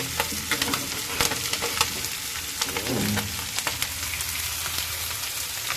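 Small puti fish fry in hot oil with a busy crackling sizzle and sharp spatters, a spatula scraping as the fish are flipped partway through, close and fairly loud.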